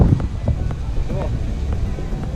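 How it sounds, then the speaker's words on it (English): Strong wind gusts across a sandy beach at Canoa Quebrada in northeast Brazil, blowing sand around. A heavy, low buffeting roar fills the whole moment while a voice speaks through it. "Whoa, windy."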